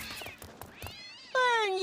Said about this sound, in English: Hey, Laird, wanna adopt a cute little kitty?